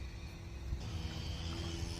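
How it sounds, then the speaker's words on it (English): A lawn mower runs steadily in the background beside a carp fishing pool, a continuous low engine drone that stays at an even, moderate level throughout. "Sorry for the noise in the background. The guy's cutting his lawn."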